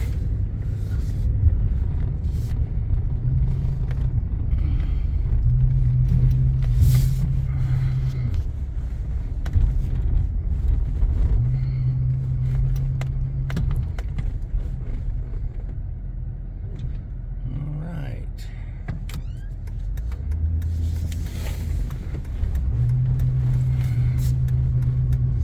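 A 2005 Chevy Avalanche truck driving steadily, its low engine rumble rising and dropping as it shifts gears several times, heard from inside the cab with a constant road drone.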